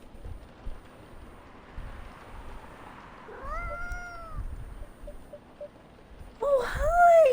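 A cat in the game Coffee Talk gives two meows, the first soft and drawn out, the second louder and sharper near the end, set over quiet background music.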